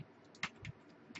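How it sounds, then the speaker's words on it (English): A few soft key clicks from a Commodore 64 keyboard as a function key is pressed: scattered, faint, close-up taps with no voice. "as soon as you press the F key at the top of your keyboard"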